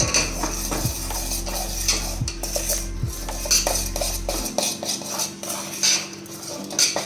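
Flour being stirred into hot water in a pan to make modak dough, brisk repeated scraping and knocking of a spoon against metal, with a steady low hum under the first half.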